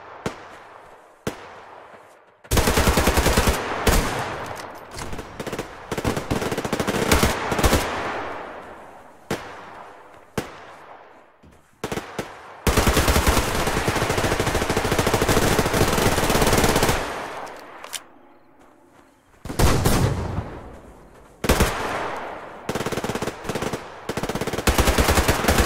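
Submachine gun fire in the Survarium video game from the OTs-02 Kiparis and Uzi, loud close rapid automatic bursts of varying length separated by short pauses.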